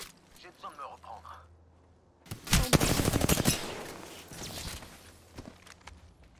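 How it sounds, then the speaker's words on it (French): Rapid bursts of automatic gunfire from a ranked shooter video game, loud and dense for a couple of seconds and then tailing off into scattered shots, with softer game sounds beforehand. "Je me fais tirer dessus."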